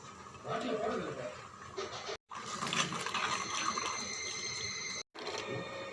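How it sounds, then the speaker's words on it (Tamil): Water runs and splashes steadily into a pot of mutton curry for several seconds, with a brief break, while a person talks over it. "இருக்கிற அளவுக்கு தண்ணி ஊற்றிக்கலாம்"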